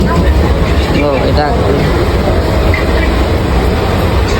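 A train to Falaknuma rumbles along steadily with rolling wheel noise and brief metallic squeals, loud and close, as if heard from on board.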